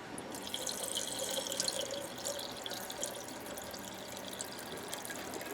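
Water-based 3% brine poured into a jar of sauerkraut: a soft, continuous trickling splash with faint drips, fairly quiet and heard alone for several seconds.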